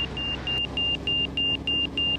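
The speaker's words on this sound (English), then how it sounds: "you hear the progressive nature of the AOA indicator there?" A repeating electronic beep from a Carbon Cub FX-3 aircraft's angle of attack indicator, about eight evenly spaced pulses in quick succession, loud and steady over a low engine drone.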